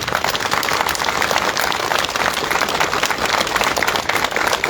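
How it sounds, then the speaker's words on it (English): Dense, sustained applause from a large audience at a Trans Day of Visibility event in Groningen, loud and continuous, with no talking over it. "give them a big, big, big applause"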